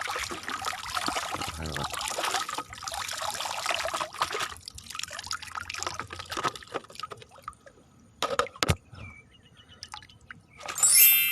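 Water trickling and pouring while freshly trapped shrimp are washed, an uneven close stream with splashes and drips, ending in a louder rush.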